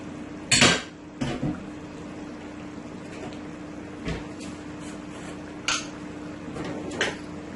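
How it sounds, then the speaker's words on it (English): Black-eyed peas go into a pot of chicken stew with a few sharp metallic clanks of spoon and pot, spaced out over a low steady background hum, with no talking. "So let's add our beans, black eye."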